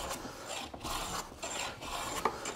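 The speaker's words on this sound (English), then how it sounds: "I don't think this is the direction I want to be planing" A cambered hand plane shaves wood in long, close, raspy strokes, four or five passes separated by brief pauses, steady and moderately quiet with no voices.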